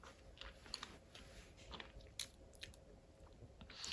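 Soft crunchy biting and chewing of a vegan boiled egg sprinkled with black salt, close and quiet, with a few sharper bites scattered through steady low mouth noise and no talking.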